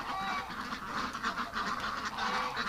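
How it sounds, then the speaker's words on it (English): Muscovy ducks mixed in among other ducks outdoors in winter, faint, with overlapping honking and quacking calls throughout. "the Muscovies are using the ducks as cover"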